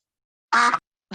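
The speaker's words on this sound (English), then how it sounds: "Did everyone hear that? That's the duck." Two short cartoon duck quacks played from a sound library in Scratch coding software, the first a clear nasal honk lasting about a quarter second, the second a brief clipped quack just after, with silence around them.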